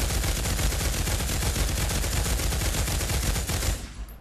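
A light machine gun fires in the VR game Pavlov, a continuous rapid burst of loud close shots for nearly four seconds before cutting off.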